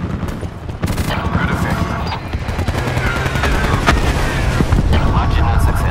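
Aircraft gun firing in Call of Duty, a sustained barrage of rapid booming bursts that carries on steadily throughout under radio chatter.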